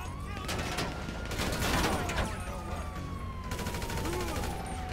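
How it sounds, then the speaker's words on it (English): Gang members fire on a police officer in the video game GTA 5, producing continuous loud volleys of gunfire layered over a wailing police siren and busy street noise. "We got some gang members shooting at me."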